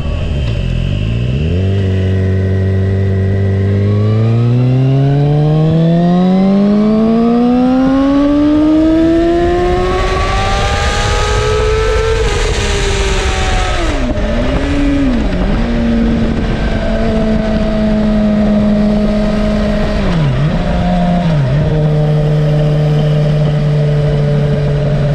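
A 2016 Suzuki GSX-R750 sport motorcycle revs hard in second gear up to about 12,000 rpm, its loud engine note climbing steadily in pitch, then dropping and rising again through several gear-like dips, with no talking.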